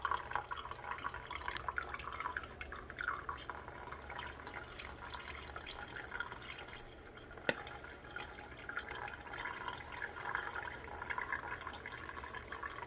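A French press coffee maker is plunged down slowly, giving a faint, close gurgle and trickle of liquid with a single soft click partway through.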